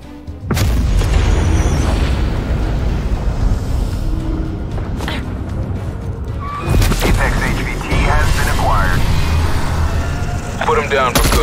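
A heavy artillery boom and explosion follow a countdown in a military shooter game, with loud rumbling blasts, further impacts later, and voices talking over the chaos.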